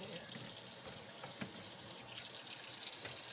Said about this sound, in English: Make sure all the water is coming out of there.